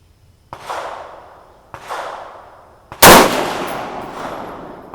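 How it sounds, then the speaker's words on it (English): Three rifle shots from a 6.5 Grendel AR firing 120gr Speer Gold Dot loads, each a sharp loud crack with a decaying outdoor echo, spaced about a second apart, the last one closest and strongest. "We are done shooting the Speer gold dot for today."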